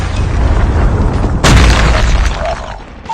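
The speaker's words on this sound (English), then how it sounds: "Friendly Predator missile inbound." A Predator missile strike in Call of Duty Mobile lands as a loud, close boom with a sudden burst, rumbling on amid ongoing battle noise before fading.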